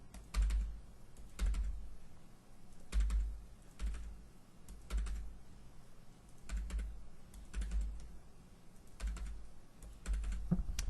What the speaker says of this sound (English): Now I can do that very quickly. Click, enter, enter.